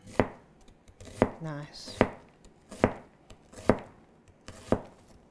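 A very sharp knife chops bread stuffing ingredients on a board in six crisp, evenly spaced strokes, close and clear, with a brief spoken word between cuts.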